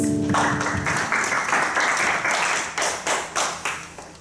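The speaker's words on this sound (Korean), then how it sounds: "주님께 감사의 박수를 드리겠습니다" A youth congregation at a Korean church Sunday worship service claps in thanks. The room-filling applause swells quickly, then thins into a few final, separate claps.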